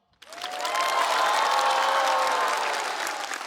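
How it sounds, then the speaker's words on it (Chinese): Studio audience applause at a stand-up comedy show bursts in suddenly after a brief silence, swelling into steady, dense clapping from a large crowd that stays loud and only slightly fades. "我也可以享受这种掌声了"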